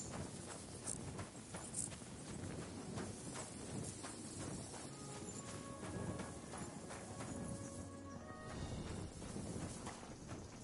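Horse hooves clop along at a steady walking pace over a busy background of ambient game sound in Kingdom Come: Deliverance 2, fairly faint.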